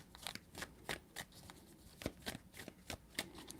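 Tarot cards shuffled by hand in repeated quick riffles and snaps, a rapid uneven patter of crisp papery bursts, close and fairly quiet with no talking.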